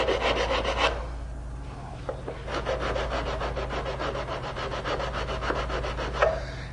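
Sanding block loaded with 80-grit paper rubbing across a flat wooden bench board to clear bandsaw marks, a close, steady run of rhythmic back-and-forth rasping strokes over a low hum, with no talk.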